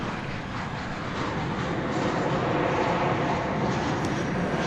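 A Boeing 737-800 airliner, American flight from Grand Rapids, arrives over DFW airport, its jet engines producing a loud, steady roar that swells slightly as it passes overhead, with no voices.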